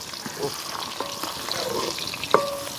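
Sliced onion and green chillies fry in a hot pan, a steady close sizzle with occasional stirring scrapes and clinks.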